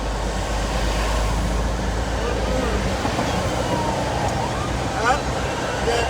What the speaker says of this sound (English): The common sirens of the upper north city of Baltimore